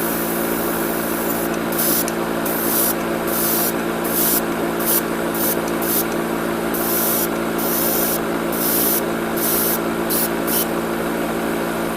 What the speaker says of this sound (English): we're going to begin airbrushing the next color